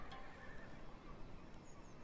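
A war horse whinnies faintly in the video game Total War: Shogun 2 against a steady bed of background noise, the call brief and somewhat buried.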